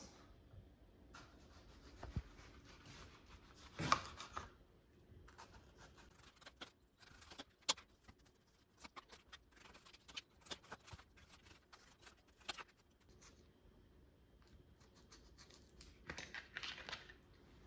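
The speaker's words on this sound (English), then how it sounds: "So now we'll just cut them into slices and also remove the stems." A knife slicing washed green tomatoes on a cutting board, with faint, irregular thin cuts and small taps against the board, quiet and close, with no voices.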